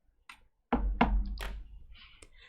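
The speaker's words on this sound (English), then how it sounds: "you knock on the door." Knocking on a wooden door: a faint tap, a pause, then three firm, close knocks in quick succession with hollow thuds, followed by a softer rustle and a brief click.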